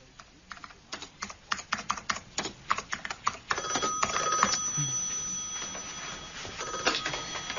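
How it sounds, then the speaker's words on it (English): An office scene in a radio play: rapid keyboard typing clatters throughout, and a telephone rings briefly midway, close and moderately loud over the steady tapping. "Peter Cousins' phone. Can I help you"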